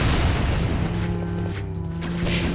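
A loud boom from an explosion in the survival horror game Resident Evil: Code Veronica, opening with a dense crashing burst and then trailing off into a rumbling, ringing tail with no talk over it.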